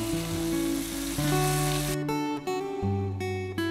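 Pork Bicol Express with shrimp paste and coconut milk sautés in a pan, a loud close sizzle at first that drops to a quieter bubbling fry, with a few stirring knocks, no talking.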